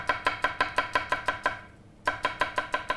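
A knife finely chops garlic on a board in quick, even strokes, about a dozen sharp close taps, a brief pause, then another rapid run of chops, with no voices.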